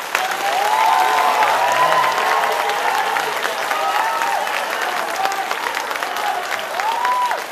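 A studio audience at the TV courtroom show Aap Ki Adalat breaks into sustained, full applause with a few cheers, loud and continuous for several seconds while a voice talks faintly beneath it.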